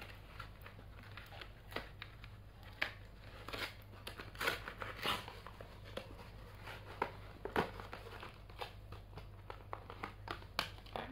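Scissors cut through packaging during an unboxing, giving a run of irregular close snips and crinkles with small rustling handling noises between them and no voices.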